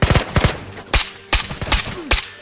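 Rapid SKS rifle fire in the VR shooter Ghosts of Tabor: several loud, sharp reports in quick bursts, with short gaps and ringing echoes trailing between the shots.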